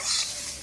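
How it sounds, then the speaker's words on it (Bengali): Chopped banana stem sizzles in a hot pan, a brief crackling fry that swells at first and then settles into a softer hiss. "এবার ভালো করে থোরগুলো আমি ভেজে নেব"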